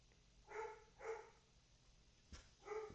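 A dog barks four times in the background, faint and distant, in a loose irregular rhythm against quiet room tone.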